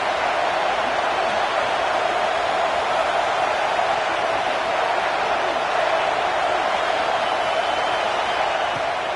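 Stadium crowd in Madden 26 roaring steadily behind the defense on third down, a dense, even wash of cheering noise with no clear breaks.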